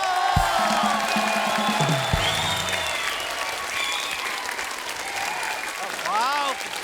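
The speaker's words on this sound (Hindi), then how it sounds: "कृष्णा के लिए जोरदार तालियां।" Steady applause from a TV comedy show studio audience fills the space, with scattered whoops and a few voices heard over the clapping.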